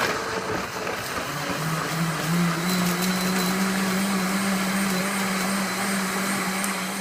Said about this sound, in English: I just take it and I am basically going to puree